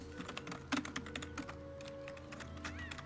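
Paws of a cat tread across a computer keyboard at a gaming desk, giving a handful of close key clicks, clustered in the first second and then sparser, over a low background hum.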